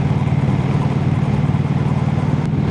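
A Harley-Davidson Sportster bobber motorcycle cruises steadily in fourth gear at around 40 to 47 mph, its engine giving a loud, even, throbbing drone close up with no speech.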